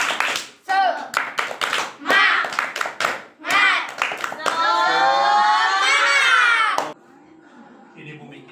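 A group does an Indonesian chanted spirit clap, clapping in quick rhythmic patterns between chanted shouts, followed by a long sustained cheer from many voices, then quieter talk.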